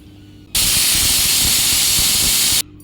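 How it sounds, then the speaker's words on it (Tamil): A pressure cooker on a gas stove, cooking a Tamil-style goat intestine curry, bursts into a loud, rushing steam release lasting about two seconds. It cuts in and stops abruptly against a quiet kitchen background. "ஒரு 5 விசில் விட்டுறலாங்க."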